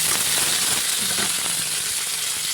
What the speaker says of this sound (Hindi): चलिए डाल देते हैं टमाटर को